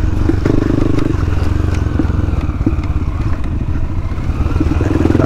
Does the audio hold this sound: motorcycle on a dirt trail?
yes